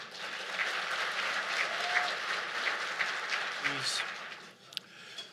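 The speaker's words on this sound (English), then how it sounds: "Would you please give a round of applause to my friend and your friend, soon to be, Dr." A crowd at the 2015 Blacks 'n Business, Blacks 'n Technology event gives Dr. George Frazier a round of applause. The clapping is moderate and steady, fairly distant, and dies away just before the end.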